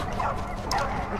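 Dog barking in the video game Die Young, an attack dog heard as steady yips and whimpers under a constant dense game background.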